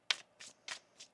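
Tarot cards shuffled by hand in four quick, crisp riffling bursts, close and fairly quiet, with short pauses between them and no talking.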